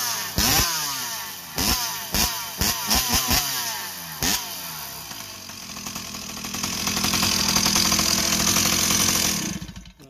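A ported Stihl 038 Magnum chainsaw fitted with a prototype exhaust pipe blips sharply several times, then holds a loud, sustained high rev before dropping off, heard close with no talk.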